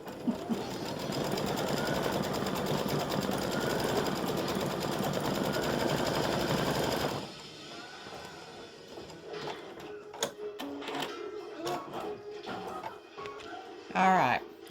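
An embroidery machine stitches small dots on a Bless Our Home mug rug, humming and ticking loudly and steadily for about seven seconds, then stopping, followed by quieter clicks and handling noises.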